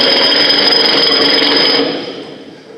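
Hypnotized people at a high school after-prom show imitate jackhammers breaking concrete with their voices, a loud sustained buzzing rattle of many mouths together that fades out near the end.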